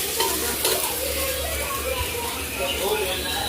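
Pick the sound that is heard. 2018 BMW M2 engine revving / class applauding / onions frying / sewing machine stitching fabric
onions frying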